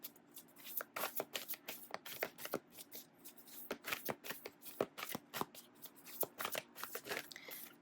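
Tarot cards being shuffled by hand for a reading, with quick crisp riffles and snapping bursts of card edges that come in irregular clusters, close and clear with no talking.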